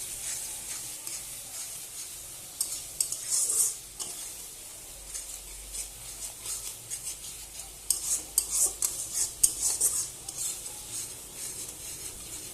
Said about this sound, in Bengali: এবার আমি ভালোভাবে কষাবো।